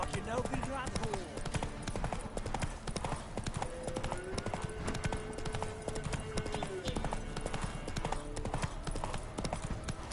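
Horse hooves galloping in The Witcher 3, a fast, dense rhythmic clip-clop that runs the whole time, loud and close, mixed with game music and other ambient sound.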